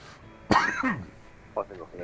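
A person coughs hard after water went down the wrong way while drinking, one loud burst at the start followed by a few shorter, weaker coughs and throat-clearing sounds, close up.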